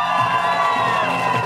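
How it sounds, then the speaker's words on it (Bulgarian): Prom crowd in Plovdiv cheering and whooping for graduating students, loud sustained shouts and high excited voices blending into a continuous roar close by. "За всички вас силни аплодисменти!"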